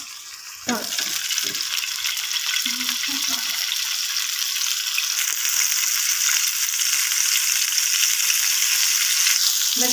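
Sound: egg frying in oil with chili powder

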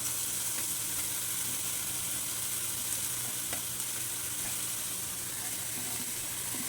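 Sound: jackfruit pieces stirred into frying masala

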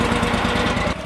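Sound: gasoline engine running on a well drilling rig

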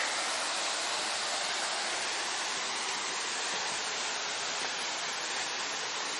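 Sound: waterfall, Lágrima del Indio, Córdoba

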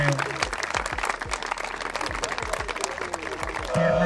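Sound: audience applause at football tournament award

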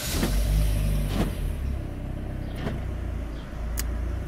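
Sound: car engine starting (Chevrolet Aveo/Cruze/Sonic/Trax)

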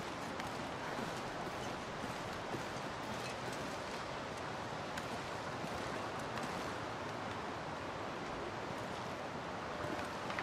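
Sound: waterfall

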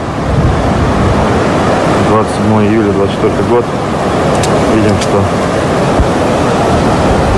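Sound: floodwater flowing across a road

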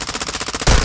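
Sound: gunfire from the video game Call of Duty: Modern Warfare II

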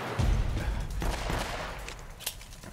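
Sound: gunfire from a powerful gun in the video game Uncharted: Drake's Fortune

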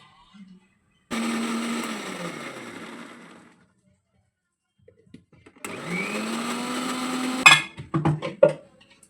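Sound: mixer grinder grinding ginger garlic paste

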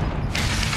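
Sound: picking up a shotgun in a video game

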